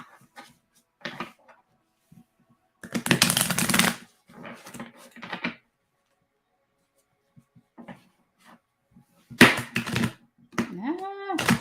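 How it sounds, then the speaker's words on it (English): Tarot cards are shuffled in a few quick riffling bursts separated by pauses, close and crisp, ending with a flurry of card snaps. "That was a horrible shuffle."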